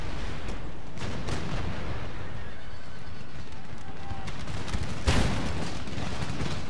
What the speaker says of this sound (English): Oh, that's a wonderful barrage.